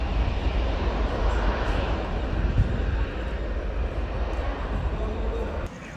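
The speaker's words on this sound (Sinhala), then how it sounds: "මෙම දර්ශන අතර කුඩා ටර්බෝප්‍රොප් වර්ගයේ ගුවන් යානයක්ද දැකගත හැකි වන අතර" A small turboprop airplane at Colombo's Katunayake airport gives off a continuous broad engine roar, fairly loud and steady, that drops away abruptly just before the end.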